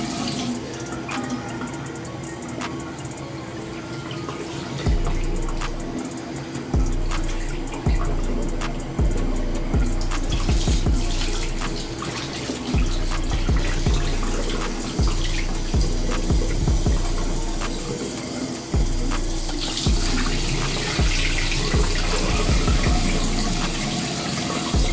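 A tap runs steadily at close range while hair is soaked under it, the water breaking and splashing unevenly as the head moves through the stream, with no talking.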